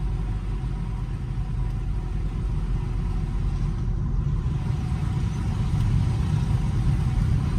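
Harley-Davidson motorcycles cruising in formation on a German road rally trip, a steady loud engine rumble and road drone holding throughout with no pauses.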